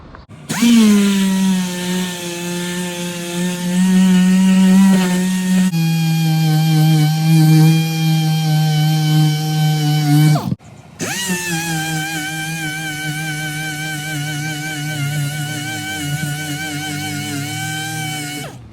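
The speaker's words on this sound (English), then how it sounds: "got my 80 grit on my DA, and step one, we're gonna sand this area smooth" A dual-action sander with 80-grit paper grinds over fiberglass, its motor giving a loud, steady whine. The tool cuts out briefly about halfway through, then spins back up and carries on.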